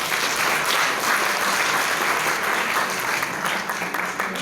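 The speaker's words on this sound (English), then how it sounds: "Our warm round of applause." Sustained applause from a conference audience, a dense steady crackle of many hands clapping together for the full stretch, loud and even with faint murmurs beneath.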